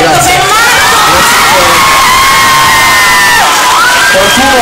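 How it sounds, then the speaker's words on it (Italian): A live audience at a concert appearance in Pavia roars continuously, with loud cheering, shrill shouts and whistles packed densely across the whole stretch, forming a constant close wall of crowd noise. "tutti insieme voglio sentire senza urlare un applauso stratosferico"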